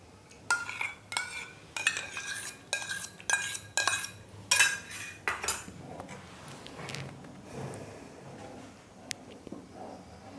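A spoon stirring milk with custard powder in a metal pot, a quick series of sharp clinks and scrapes for the first half, then quieter occasional taps and faint bubbling, close by.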